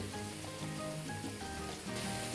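Chicken pieces, thin cuts for Taiwanese-style crispy fried chicken, sizzle steadily in hot oil with a dense continuous crackle at close range and no voices.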